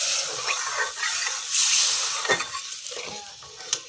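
Masala in a pan sizzles and hisses after water is poured in, with faint stirring scrapes and a few sharp spatters over the steady crackle, heard up close.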